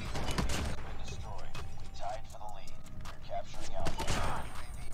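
Sniper rifle shots in Call of Duty Mobile, several sharp cracks spaced a second or so apart, loud and close over game noise, with a voice talking between them.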